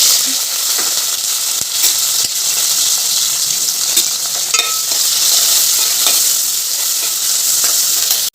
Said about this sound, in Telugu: ఆవాలు జీలకర్ర మెంతులు ఒక్కటి బగారా వేసి పోపు అయితే వేగనియాలి